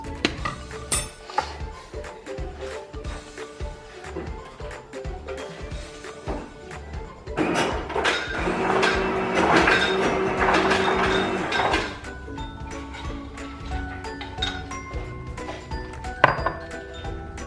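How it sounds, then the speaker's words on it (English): Ice cubes are dropped into a glass for a homemade caramel coffee frappe, giving repeated sharp clinks and clatters of varied loudness, with a denser cluster of knocking in the middle and no talking. "I'm just gonna add a few more ice cubes"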